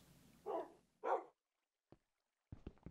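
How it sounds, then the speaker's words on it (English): Minecraft dogs barking in the video game: two soft barks close together, then a pause and a few faint clicks and short yips toward the end, with no talk. "Get out of the way, dogs."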